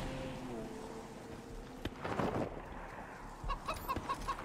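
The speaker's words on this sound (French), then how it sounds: "est-ce que tu veux apprivoiser des poulets?" Chickens in the video game Wasteland 3 give a few soft, brief clucks amid low ambient game sound, faint and sporadic across a few seconds.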